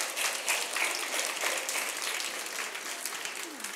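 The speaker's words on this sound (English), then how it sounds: "Can we please give these ladies a round of applause?" A room of conference attendees gives a sustained round of applause to first-time women attendees standing at a business event, steady dense clapping throughout that fades slightly near the end.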